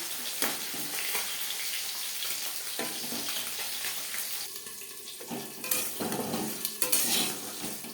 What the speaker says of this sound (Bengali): লো ফ্লেমে নাড়াচাড়া করব যতক্ষণ না পর্যন্ত কালারটা চেঞ্জ হতে শুরু করবে